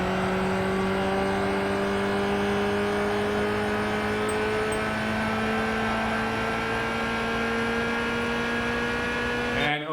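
A race car engine drones in Gran Turismo 5, holding a steady, sustained pitch with strong tonal harmonics, running continuously and loud until an abrupt cut at the very end.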